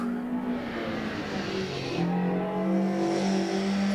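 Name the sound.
non-standard car engine and exhaust in Assetto Corsa video game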